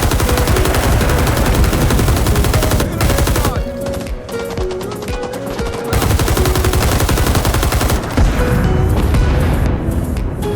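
Sustained automatic fire from an M60 machine gun in the Vietnam War shooter Rising Storm 2: Vietnam, loud and near, rapid bursts running almost nonstop with a brief lull midway.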